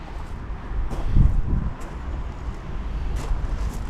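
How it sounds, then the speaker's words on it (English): Outdoor wind buffets the microphone with a low, steady rumble and gusty swells during the final finishing of a Warbirds Replicas FW190 model plane. No one speaks. "Hope that wind doesn't get up too much, it's bouncing around a bit."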